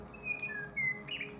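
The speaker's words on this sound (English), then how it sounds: "Recorded a singing rock wren." A rock wren sings close by with a strong, clear signal: a short run of bright, whistled phrases, some sustained and some clipped, over a quiet background with no voices.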